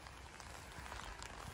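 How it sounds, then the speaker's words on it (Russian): Steady rain falls on a garden, a soft continuous hiss with scattered drop patters throughout, faint and distant, with no voices. "сегодня дождь идет"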